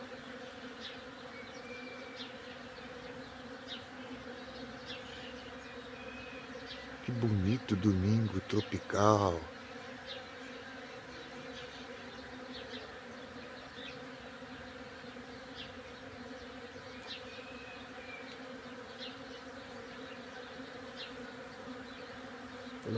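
A steady hum of bees buzzing around a person runs throughout, with a brief burst of speech and louder activity in the middle.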